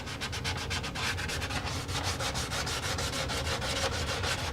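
Repaired fairing parts for a track motorcycle being sanded by hand, a loud, close, continuous rasping rub in a fast back-and-forth rhythm, with no talking.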